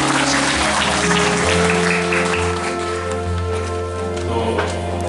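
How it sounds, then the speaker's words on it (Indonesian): A gathering at a thanksgiving prayer service breaks into dense, sustained applause, with many hands clapping at once in a loud patter that runs across the whole stretch, and faint voices underneath. "Luar biasa tepuk tangan Bapak Ibu"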